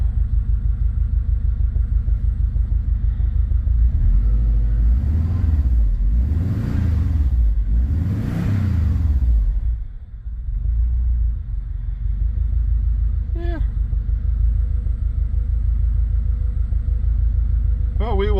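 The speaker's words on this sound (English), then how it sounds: "Idling a little low there, that's for sure." A Subaru 2.5RS engine idles low with a steady rumble, swelling briefly as if revved, with a couple of faint clicks near the end.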